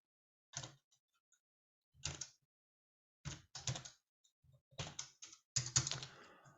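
Computer keyboard typing comes in short clustered bursts of keystrokes with brief pauses between them, close and fairly quiet, alone, while setting up an end-to-end software test.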